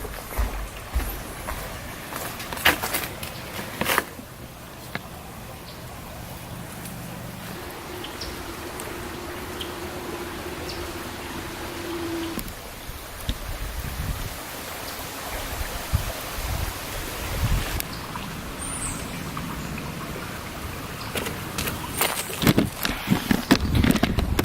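Steady broadband rush of the Fenton River running beneath the Warren pony truss bridge, a continuous water wash that stays fairly even throughout with a few brief rustles and knocks close by.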